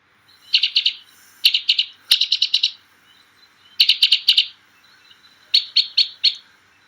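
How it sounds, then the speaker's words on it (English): White-winged crossbills calling in quick bursts of crisp, metallic chattering notes, several clusters of rapid chips spaced across the clip, loud and close with no talking. "the white-winged crossbill sounds like this"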